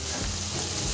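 Chicken pieces frying in a hot pan, browning on both sides, with a steady close sizzle and crackle running through the whole second without pause.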